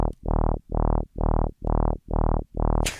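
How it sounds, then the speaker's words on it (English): A synthesized dubstep bass wobbles in seven even, heavy pulses shaped by an LFO, loud and alone with no voices, ending in a short burst of noise. "It's a fat wob."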